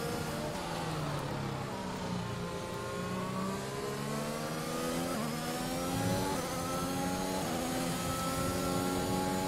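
Formula 1 car engine in the racing game F1 2021, an Aston Martin at Silverstone, howling at high revs with continuous rising and falling pitch sweeps through gear changes, loud and steady, with no talk.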